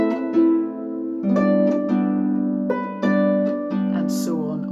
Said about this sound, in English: Nice ripply harp chords.